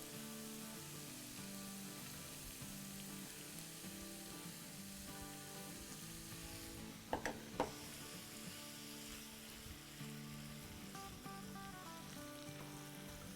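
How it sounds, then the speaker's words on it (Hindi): Stuffed eggplant frying with masala paste for a Hyderabadi-style baingan dish, a steady close sizzle with soft stirring, a couple of sharper clinks of a spoon against the pan midway, no talking. "अब हम इसमें जो हमारा मसाला जो हमने पेस्ट डाला था ना बैंगनों में, ये सारा डाल देते हैं और इसके साथ भूनेंगे"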